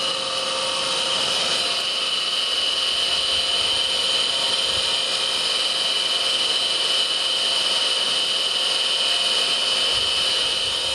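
A rewired Fimec electric motor runs continuously, giving a loud, steady whirring hum with a constant high whine and no pauses or variation.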